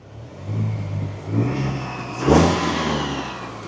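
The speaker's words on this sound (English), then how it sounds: "something I heard from the driver's seat was the turbos" The turbocharged engine of a 2025 GMC Canyon Denali pickup revs up in a few rising surges, each climbing louder than the last, with a whirring whine riding over the engine near and clear.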